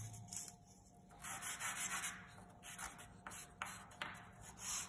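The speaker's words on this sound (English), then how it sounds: "So the more I rub it, the more it becomes flat." Rubbing over a tracing laid on a canvas for oil painting, a close, dry scuffing and brushing that comes in uneven strokes, alone and fairly quiet.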